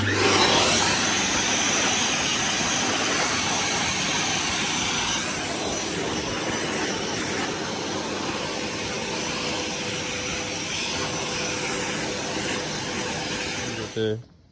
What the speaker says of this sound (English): Sure that you hoover up once you're done